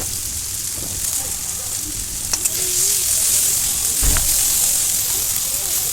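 Chopped tomatoes and crushed Maggi noodles sizzle in hot oil in a pan, a steady close hiss with occasional stirring knocks, while voices are heard in the background.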